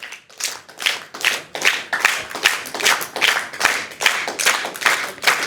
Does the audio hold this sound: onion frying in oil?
no